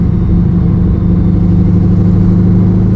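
A twin-turbo 1100 HP C6 Corvette Z06 drones loudly from inside while driving, a steady deep engine rumble held at a constant pitch throughout.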